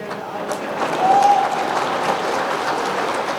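An audience at a poetry event in Patna applauds with a dense, steady wash of clapping that swells briefly, with voices mixed in.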